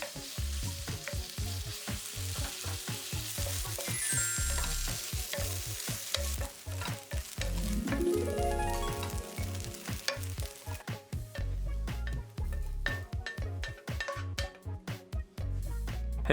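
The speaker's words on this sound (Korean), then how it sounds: "팬 그대로 올려서 식용유 1스푼, 어묵 넣고 색깔이 날 때까지 볶아줍니다." Fish cake pieces stir-fry in a spoonful of cooking oil in a hot pan, a steady sizzle with repeated scraping and rhythmic clinks of a utensil against the pan, close and fairly loud with no talking.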